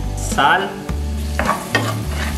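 Achiote, onion and garlic paste refrito frying and being stirred for moro de lenteja, a loud close sizzle with spoon scrapes, and a voice speaks briefly.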